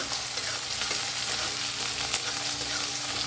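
Onion, chili and chopped tomato fry in a pan with a loud, continuous sizzle while a spoon stirs them, scraping and clattering close up, with no one speaking.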